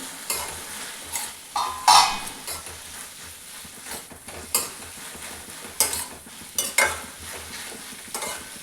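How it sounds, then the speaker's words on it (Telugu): A spatula scrapes and taps against a pan of frying tomatoes in irregular strokes over a soft background sizzle, close and moderately loud. "టమాటా అయితే ఫ్రైగా చేస్తున్నాను."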